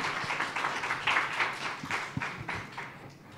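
An exhibition audience claps for a few seconds, the applause swelling then thinning into scattered claps.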